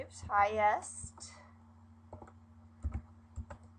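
A computer keyboard used for spreadsheet entry, heard as a few soft, scattered key clicks in the latter half after a brief voice at the start, all fairly quiet.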